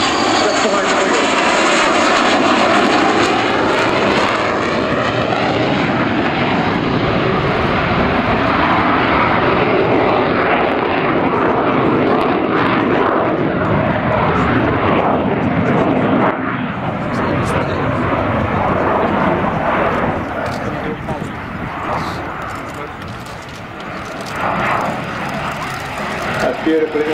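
A de Havilland Sea Vixen jet flies past low and loud at an Old Warden Fly Navy Day air display, undercarriage and hook lowered, its broad engine roar sustained throughout with a slight dip near the end; someone comments in the background.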